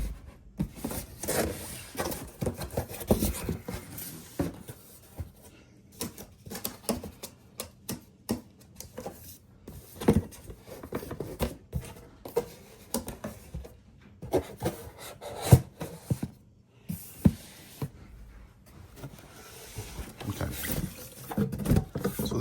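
Cardboard brake caliper boxes for a Lexus GS big brake upgrade being handled, with scattered rubbing, scraping and tapping of the packaging in irregular close bursts, no talking.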